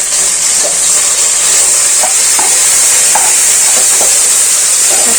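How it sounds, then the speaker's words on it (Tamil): Tomatoes and onions frying loudly in a pot for chicken biryani, a steady close hiss with faint scraping taps from stirring; no talking. "தக்காளி நல்லா வதங்கணும்."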